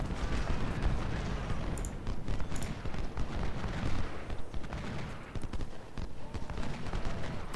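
Massed musket volleys in the Civil War strategy game Ultimate General: Civil War, dense crackling gunfire rolling continuously at a loud, steady level with sharper reports scattered through it.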